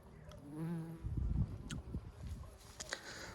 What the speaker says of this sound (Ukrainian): Ось можна бачити, джміль працює.